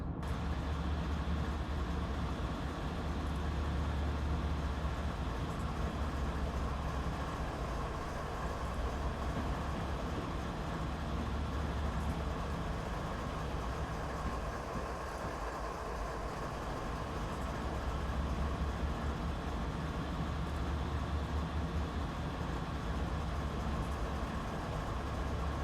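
A train in the Train Simulator 2020 game rolls steadily along the tracks, a continuous low rumble and rattle of wagons that stays even and unbroken for the whole stretch, with no talk.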